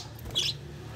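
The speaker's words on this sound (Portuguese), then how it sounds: "Olha aí, nosso periquito fêmea," A female budgerigar parakeet gives short, high chirps, two brief bright calls about half a second apart over faint background noise, with no one speaking.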